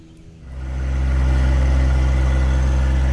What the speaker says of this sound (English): It's never too bad once you get the chainsaw started up.